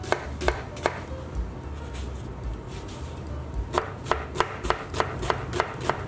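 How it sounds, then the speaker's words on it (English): A knife finely chops an onion on a board, with a few sharp knocks early on and then a steady run of crisp, evenly spaced chops, close and clear with no talking. "all we want to do with our onion is just finely chop it."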